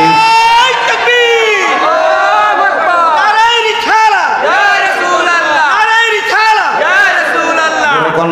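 Large crowd at a Bangladeshi waz gathering in Jaipur chanting takbir together, loud, sustained, rhythmic voices rising and falling in repeated surging phrases.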